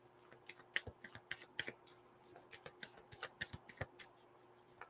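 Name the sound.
shuffling Moonology Oracle cards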